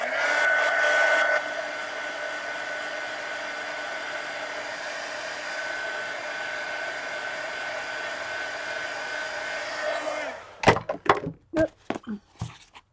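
A hair dryer blows steadily on a sketch for about ten seconds, loud and close, then cuts off and is followed by several sharp knocks and handling sounds.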